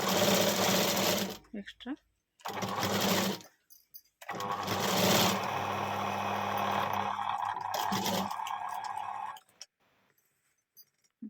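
A sewing machine stitches a frill for the puff sleeve of a blouse in close, whirring bursts, three runs of varying length with short gaps, and a voice talks briefly between them.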